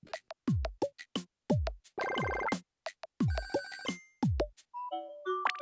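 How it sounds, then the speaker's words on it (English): Telephone ringing in the video game Tomodachi Life: bright synthetic ring bursts alternating with chimes, plucky blips and low bouncy thuds, a busy close-up jingle with brief gaps and no talk. "Whenever I race to answer the phone, I always get to it one moment too late."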